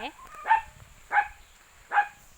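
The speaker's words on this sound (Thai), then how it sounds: "หมาเห่าควายเหรอ" A dog gives three separate, fairly sharp barks spaced about two-thirds of a second apart, at moderate distance against a quiet background.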